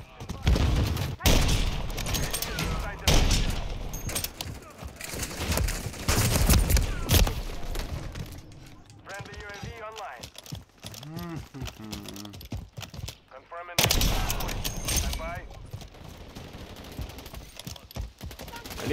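Gunfire from a first-person shooter match in Call of Duty Modern Warfare III, with bursts of rapid shots and impacts mixed with game effects and music, loud in the first half and again near the end, with a stretch of quieter tonal sounds between.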